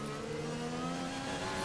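Formula 1 race car in a video game, engine holding a steady high whine with layered harmonics, loud and continuous with no talk.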